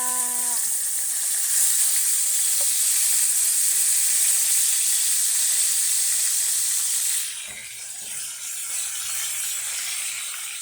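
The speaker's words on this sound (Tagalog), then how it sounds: "Yan guys, nalagay na po natin at mainit na ang mantika." Food goes into hot cooking oil and fries with a loud, steady sizzle and hiss that holds evenly, then drops slightly quieter partway through, with faint clinks underneath and no talking.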